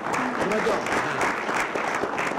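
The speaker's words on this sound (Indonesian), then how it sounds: "Tepuk tangan untuk Bapak kita." Audience applause on an Indonesian TV game show after a husband's answer, with steady dense clapping under a host's voice and some talk throughout.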